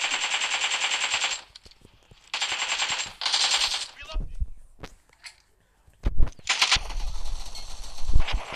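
Bursts of automatic gunfire in the battle royale game PUBG crackle in long rapid strings, separated by short gaps and a few thuds, loud and close.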